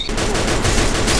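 A rapid burst of video game gunfire, several shots fired close and loud in quick succession within about a second, with no speech over it.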